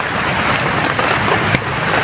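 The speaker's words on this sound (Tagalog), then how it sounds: "Ulan." Steady rain hissing down in a dense, even wash, with a soft gusty rumble underneath and no voices.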